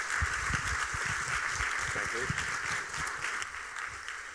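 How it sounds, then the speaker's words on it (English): Applause for a children's safety and security group, a moderate spread of clapping at middling distance with faint voices underneath, holding steady then tapering. "big round of applause for our safety and security group"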